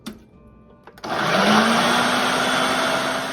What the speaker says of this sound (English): I'm going to mince up a half a cup of roasted red peppers and half a cup of pickle chips